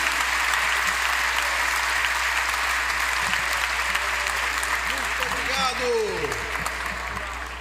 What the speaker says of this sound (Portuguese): dê uma linda salva de palmas a Deus pela vida do nosso bispo